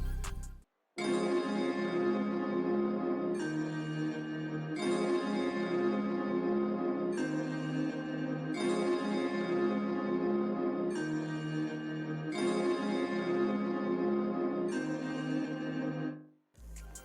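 Watery, detuned synth from the Kontakt Cloud Supply bank plays full, rich chords in a slow repeating pattern, each swell sustaining before briefly dropping out and restarting, loud and alone with no voices.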